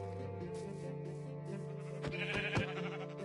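Quiet bleating from sheep in a video game, a few wavering calls over a steady sustained musical background, with no talking.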